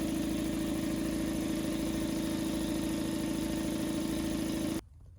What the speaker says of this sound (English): let's just check our work and make sure the compressor still is functional